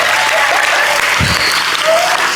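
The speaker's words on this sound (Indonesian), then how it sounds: "tepuk tangan buat teman kita" Dense applause from a crowd of students at a junior high school Islamic New Year gathering, steady and loud for a couple of seconds with no break.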